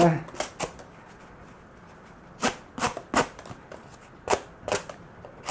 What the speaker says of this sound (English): it's not the first time I sit here and cut a big pile of cardboard.